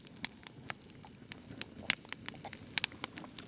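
A wood fire burning indoors in a mountain house gives off sparse, sharp crackles and pops, faint and irregularly spaced over a low, quiet background.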